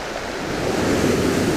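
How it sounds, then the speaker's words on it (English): Big waves break on a stormy coastal beach in a steady, close roar of surf, with wind buffeting the microphone. "A few big waves coming in as well."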